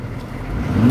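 A K5 engine with a one-wire alternator revs briefly, its low mechanical roar building in loudness over less than a second.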